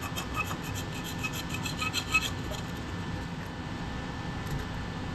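A blade rubs and scrapes steadily against a turkey wing bone being shaped into a wingbone call, a close, continuous rasping with a slightly rhythmic grain and one brief louder knock partway through.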